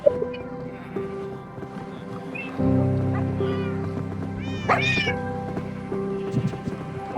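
Cats in Minecraft survival mode: several high, drawn-out meows, a cluster of them rising and bending in pitch midway, heard fairly clearly over a low, steady game background hum.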